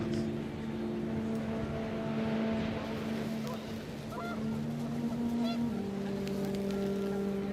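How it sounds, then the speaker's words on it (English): Panicked geese honk in the video game What Remains of Edith Finch, a few brief calls over a steady hum of wind and a low droning engine-like tone. "The wind picked up, and panicked geese appeared and quickly went."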